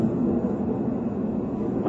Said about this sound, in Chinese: 这飞机声音这么大。